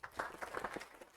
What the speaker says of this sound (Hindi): ताली बजाओ इनके लिए।